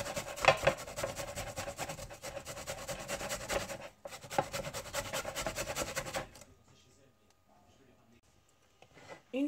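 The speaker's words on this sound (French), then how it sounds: "il faut gratter le manioc." Continuous rasping of cassava being grated by hand, a dense rhythmic scraping for about six seconds with a brief pause, then near silence with faint background noise.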